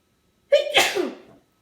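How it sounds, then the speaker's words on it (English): A single human sneeze, sharp and close, with a quick indrawn onset and a short burst that trails off in a second, alone in quiet. "I'm going to sneeze."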